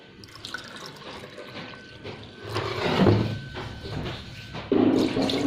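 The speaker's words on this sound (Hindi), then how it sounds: "दो कप पानी डाला बस मैंने।" Water is poured into a pot to make tea at home, with a soft trickling and splashing that grows fuller partway through, mixed with faint kitchen clatter.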